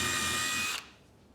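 An impact screwdriver fitted with a quick-release 3mm drill bit whirs loudly and steadily at close range for under a second, then cuts off abruptly into quiet.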